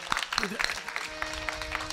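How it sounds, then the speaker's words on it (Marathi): Audience at a kirtan gathering clapping for the singer, a short burst of dense applause with a voice speaking over it and a sustained instrumental tone beneath. "एकदा महाराजांकरता सर्वांनी जोरात टाळ्या वाजवा"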